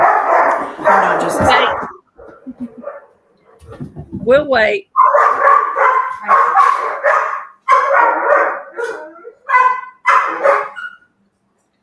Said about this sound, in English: Oh, I've got dogs barking.